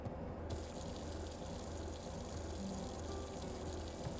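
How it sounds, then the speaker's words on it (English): Faucet water running steadily in the video game Beacon Pines, a continuous even gush at moderate level from start to finish, with no voices. "can we turn the faucet off?"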